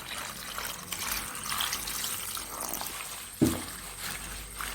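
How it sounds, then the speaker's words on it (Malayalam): Water is poured over a freshly picked flower to wash it, a soft continuous trickle and splash close by, with one sharper splash near the end. "നമുക്ക് ഇതിനകത്തോട്ട് വെള്ളം ഒഴിച്ച് കഴുകിയെടുക്കാം"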